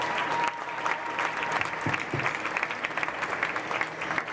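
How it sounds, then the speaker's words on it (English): Steady audience applause filling an evening 4-H supreme showmanship event in Putnam County, dense and continuous from start to finish with a brief faint voice underneath. "Let's go ahead and give them another round of applause."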